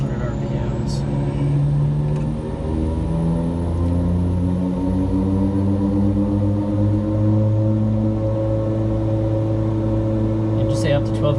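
A B99 aircraft engine in a flight simulator over-speed governor test hums steadily and slowly rises in pitch as power is pushed up, a loud layered tonal drone with faint talk in the background.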